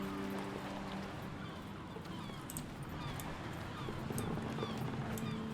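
Guard dogs in the Black Legend video game give off soft whimpers and yips over a steady ambient bed, fairly faint and scattered across the stretch, with no talk.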